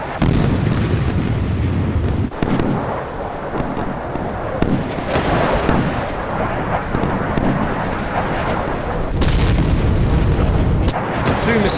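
Missile impacts and explosions in the naval combat game Sea Power, Virginia and Slava cruisers in battle: a dense, continuous roar of booming blasts with several sharp louder bursts, loud throughout.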